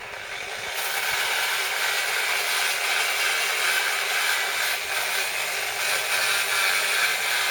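A polishing machine buffs a plastic toilet seat at gentle power and low speed, giving a steady, even whirring hiss that starts abruptly and runs on without a break.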